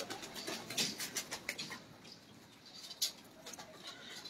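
Pigeons in a loft, a faint, soft scatter of cooing, shuffling and brief wing flaps, with a few slightly louder pulses amid quiet ambient noise; no talking.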